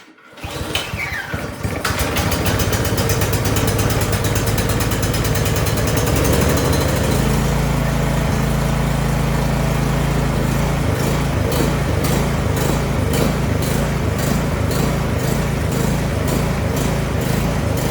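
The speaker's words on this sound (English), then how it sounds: "It starts, it runs, but it surges." Briggs & Stratton 1022E single-stage snowblower engine starting and running steadily with a loud buzzing drone, its pitch shifting noticeably partway through and a rhythmic pulsing as it surges.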